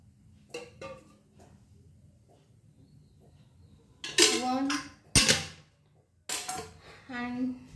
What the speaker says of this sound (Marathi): सगळ्यात पहिले कढई ठेवली आहे।